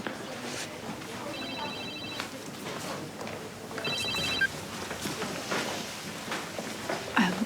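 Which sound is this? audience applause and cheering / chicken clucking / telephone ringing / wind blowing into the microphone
telephone ringing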